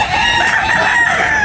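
A rooster crows loud and close at a busy chicken market in Tabunok, Talisay, one long strained call filling the moment over a low crowd murmur.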